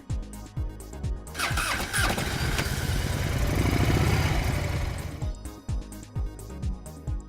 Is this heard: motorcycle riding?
yes